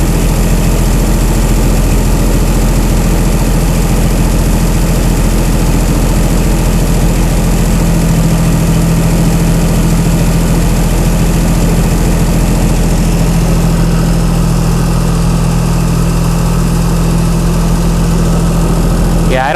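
A Chrysler Slant 6 generator engine fitted with Holley Sniper EFI idles while warming up, giving a loud, close, steady low drone that holds unchanged throughout.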